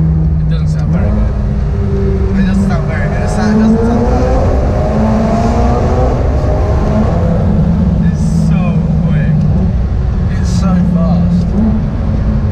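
A brand new McLaren 720S revs its exhaust, a loud, close engine roar rising and falling with a few sharp bursts, while people talk over it.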